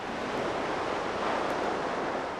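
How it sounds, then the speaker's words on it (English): Lake Michigan surf at Illinois Beach State Park rolls in as a steady, dense wash of breaking waves, loud and close, with some wind rush and no voices. "Our journey begins here in the waves of Lake Michigan."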